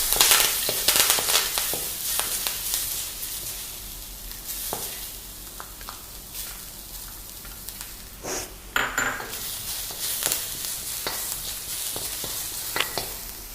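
Curry leaves and chopped onions frying in hot oil with fennel seeds and cloves, a steady close sizzle punctuated by sharp spluttering pops and occasional scrapes of a stirring spoon against the pot.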